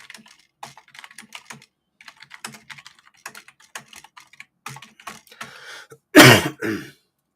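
A single loud, harsh cough bursts out near the end, close to the microphone, after a stretch of soft, scattered computer keyboard typing during an online chat session.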